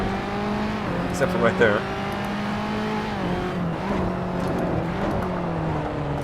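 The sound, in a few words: race car engine in Assetto Corsa video game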